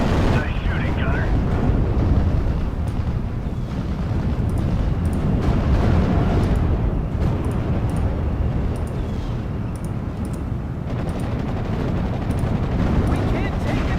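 Artillery bombardment in the World War II strategy game Steel Division: Normandy 44, a continuous heavy rumble of explosions with scattered sharper blasts, sustained and loud throughout.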